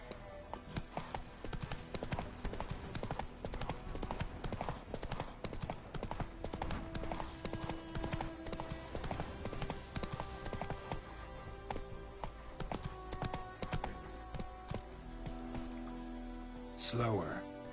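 Hooves of the horse Roach in The Witcher 3 clop in a steady, quick rhythm on hard ground, running almost throughout beneath music, with a short burst of other noise near the end.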